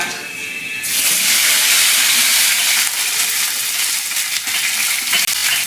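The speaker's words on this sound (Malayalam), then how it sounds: "വെളിച്ചെണ്ണ ചൂടായി കടുക് രണ്ട് മൂന്ന് കുറച്ച് ഉലുവ ഒരു കാൽ സ്പൂൺ ഉലുവയിൽ ചേർത്തിട്ടുണ്ട് ഇനി കറിവേപ്പില" Mustard seeds, fenugreek and curry leaves hit hot coconut oil with a sudden loud, roaring sizzle and hiss that stays steady and close, with faint spluttering pops toward the end.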